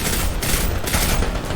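Rapid, continuous anti-aircraft fire from the video game Destiny 2 pounds steadily in dense bursts, loud and unbroken, with no talk over it.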